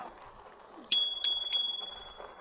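Bicycle bell on an Ariel Rider X-Class 52-volt e-bike rung three times in quick succession, bright metallic dings that ring on and fade against a quiet outdoor background.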